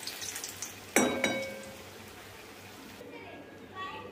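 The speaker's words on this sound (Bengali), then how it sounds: "এই পিঠগুলো ভেজে নিয়ে আমি তুলে নেব।" Bengali palm fritters, taler bora, bubble in hot oil with a soft, steady sizzle, punctuated by a sharp clink of a utensil against the pan, then the frying settles quieter.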